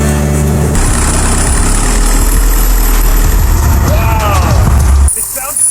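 A turbo diesel engine on a home-built trike runs with no exhaust fitted, a loud, steady low rumbling idle close by, with a rising whine near the end and people talking over it.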